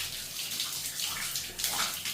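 Hot tap water runs steadily from a faucet over hands being washed with soap, a close, continuous splashing hiss with no talking.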